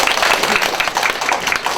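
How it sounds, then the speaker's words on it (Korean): Audience applauding graduates at a homecoming event after their presentations, a dense burst of many hands clapping close by for a short stretch. "다시 한번 그 발표 준비하신 졸업생분들한테 좀 박수 좀 부탁드릴게요."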